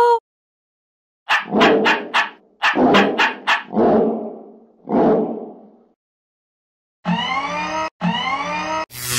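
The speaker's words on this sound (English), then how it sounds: "Dogs are fighting." Dogs barking in rough, overlapping bursts during a fight, loud and close, with snarling growls between and pauses of silence.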